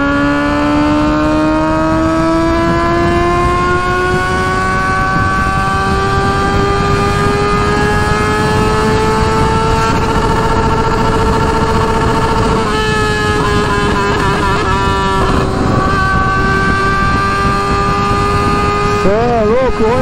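Honda Hornet motorcycle with a straight 4-into-1 exhaust cruises a highway, its loud steady engine drone holding near-constant pitch for a long stretch, rising slightly, with brief wavering shifts near the end.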